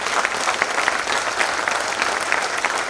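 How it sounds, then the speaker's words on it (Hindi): Audience applause filling an auditorium at a club meeting, loud, dense clapping that goes on continuously. "दोस्तों एक बार इन सभी के लिए बहुत तालियां बजाएं हम लोग।"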